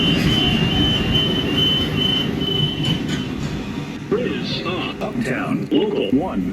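A New York City Subway R110A train on the 1 line rumbles loudly, with rising wheel squeals and screeching tones toward the end as it moves through the station, a voice briefly audible over the noise.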